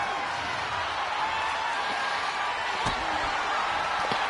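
Arena crowd in the WWE2K24 wrestling video game, a steady loud roar of cheering filling the space with a couple of sharp thuds cutting through.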